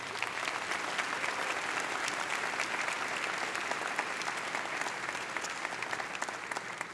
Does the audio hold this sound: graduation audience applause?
yes